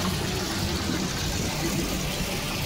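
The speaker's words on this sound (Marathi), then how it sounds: "इथे पण छान मस्त पाण्याचे कारंजे चालू आहे." A water fountain runs at a temple complex in Paithan, giving a steady, even rush of splashing water that fills the short stretch without pause.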